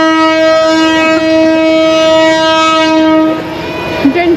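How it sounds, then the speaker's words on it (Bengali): Train horn sounding long and loud as a train sets off from a level crossing during a Bengali New Year fair trip, a steady sustained blare close by that cuts off near the end, followed by brief rail clatter. "ট্রেন ছেড়ে দিবে।"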